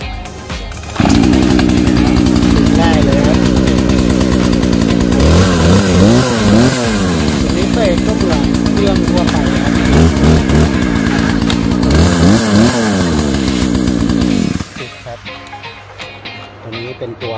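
A used Husqvarna chainsaw engine runs loudly for over a dozen seconds, revving up and down in repeated surges before dropping to a rough idle; someone talks over it.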